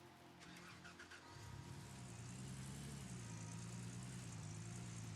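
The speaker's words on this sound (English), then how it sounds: "I'm gonna back my truck up" Truck engine in Gold Rush: The Game starting up and settling into a steady low idle rumble, heard alone with a brief clatter at the start.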